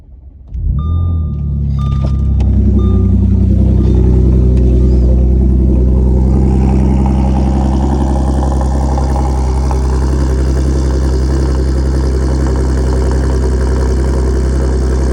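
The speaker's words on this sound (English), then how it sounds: "the one thing about this car, the cold starts are pretty crazy." An Audi engine cold-starts, cranking and firing, then roars into a loud, high idle that slowly settles into a steady deep rumble, close by.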